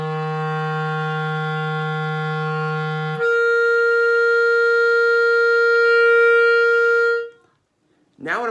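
Clarinet holding a steady low note, then slurring cleanly up a twelfth to a sustained high C using the register key, bright and close; a short breath or voice sound follows at the end.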